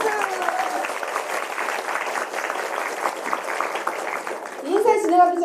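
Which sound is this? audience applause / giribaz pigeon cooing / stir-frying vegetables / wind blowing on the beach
audience applause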